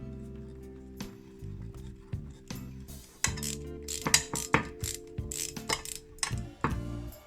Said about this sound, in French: Et ensuite, on visse tout ça.